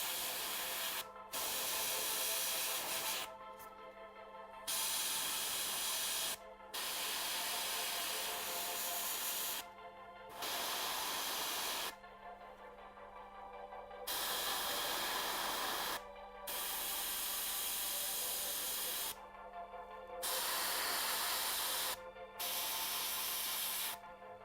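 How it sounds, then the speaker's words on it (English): Mars red paint sprayed through an airbrush onto a miniature's red armour in repeated bursts of soft, close hiss, each lasting a second or several, separated by short silent gaps. "Now with our Mars red mixed into our airbrush, we're going to go back over top all"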